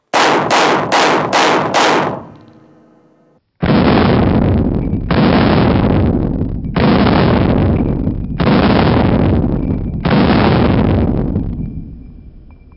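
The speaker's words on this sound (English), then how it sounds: "If I fire a few rounds in this position, watch how the gun moves in recoil." A pistol fired several rounds from the prone position: a quick string of sharp, loud shots, then a short pause and five more heavy booming reports, each ringing out for about a second.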